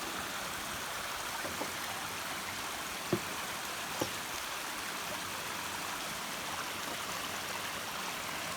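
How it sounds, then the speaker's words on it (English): Small waterfalls and a stream along a snowy forest trail on Cougar Mountain, a soft, steady rushing hiss of flowing water heard from a short distance, with a couple of faint clicks. "there's some more little waterfalls on the trip."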